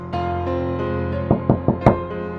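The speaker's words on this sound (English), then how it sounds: "Then the tapping." Tapping sounds in a dark, creepy horror narration scene: four sharp, evenly loud knocks in a quick irregular cluster, heard alone over a sustained low musical drone.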